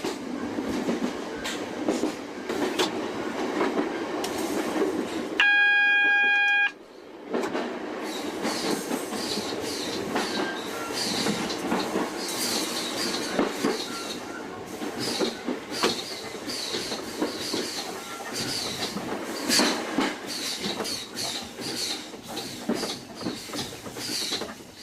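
A Class 466 Networker electric train runs on the Bromley North branch with a continuous rolling rumble and clickety-clack of wheels, interrupted by a brief cab warning tone of several stepped beeps, heard close with no talking.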